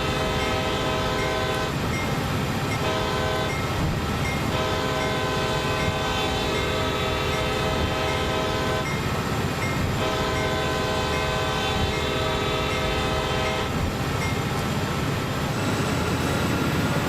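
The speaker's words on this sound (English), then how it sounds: "I've got a proper crossing coming up, so I suppose I should whistle for it" Locomotive horn in Train Sim World 5 sounding a repeated crossing pattern of long, loud blasts with short gaps, over steady rumbling train noise from an underpowered train climbing a grade.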